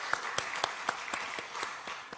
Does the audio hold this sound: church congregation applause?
yes